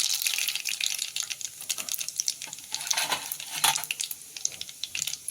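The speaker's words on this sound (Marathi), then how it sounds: "मोहरी तडतडली, छान खमंग फोडणी झाली की जिरे टाकायचे आपल्याला." Mustard seeds crackle and pop in hot oil for a tempering, a dense stream of close, sharp spitting pops and sizzling that continues busily without a break.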